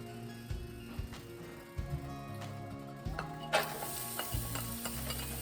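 Shallots sizzle gently in a warm pan for an omelette, with soft stirring and a few light clinks of a utensil against the pan, close and fairly quiet.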